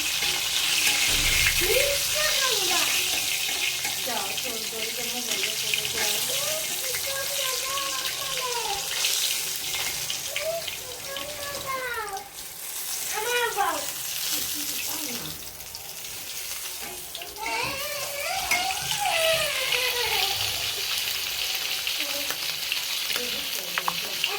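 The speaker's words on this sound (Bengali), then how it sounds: "বন্ধুরা এখন আমি কড়াইতে মাছ ভাজা তেলের সাথে আর একটু তেল দিয়ে দিছি পরিমাণ মতন" Pangas fish frying in oil in a wok gives a continuous close sizzle, overlaid by recurring rising and falling tonal chirps and a watery running sound throughout.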